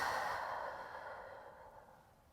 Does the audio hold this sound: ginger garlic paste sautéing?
no